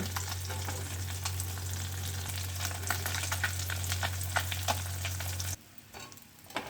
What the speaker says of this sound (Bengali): মাছগুলোকে একটু কড়া করে ভেজে নেব